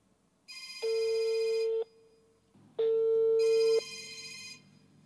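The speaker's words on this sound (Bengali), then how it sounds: "আচ্ছা রিং বাজছে।" A telephone rings through a call to the 109 helpline: two long, steady ring bursts separated by a short gap, clear and close with no talk over them.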